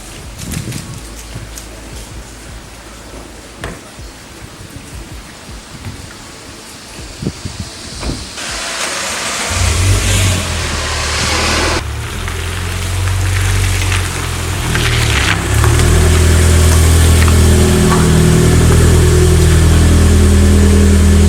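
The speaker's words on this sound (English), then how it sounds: "Now I gotta drive the car over here." An 86 sports car idles and then revs up loudly, pulling away with a steady rising roar on a rainy night, over background patter of rain.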